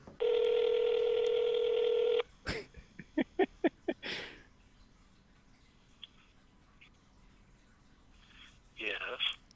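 A phone gives a loud steady dial tone, then a quick series of dialing beeps follows, and a faint ring sounds from the handset near the end.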